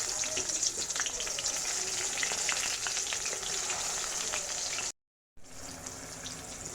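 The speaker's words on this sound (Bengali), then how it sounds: "প্রথমে একটু বেগুনগুলোকে লাল লাল করে ভেজে নিব" Eggplant slices coated in turmeric and salt fry in plenty of oil in a wok. The crackle is dense, loud and steady, with a brief full dropout near the end before it resumes.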